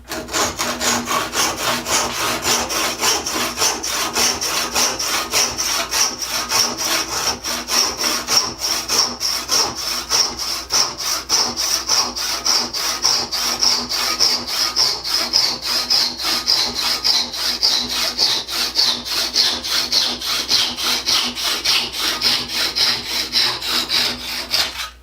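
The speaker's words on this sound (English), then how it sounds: "I'm going to cut off the stub end of this handle." Hand saw cutting through the hickory handle stub of a sledge hammer, a fast even back-and-forth rasping of strokes continuing loud and close without pause.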